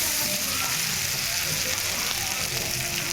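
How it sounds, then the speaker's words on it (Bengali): Potatoes frying with onion in oil, a continuous dense sizzle heard close and fairly loud throughout, with a busy kitchen background. "তেল পেঁয়াজ দিয়ে আলুটাকে ভেজে নিচ্ছে"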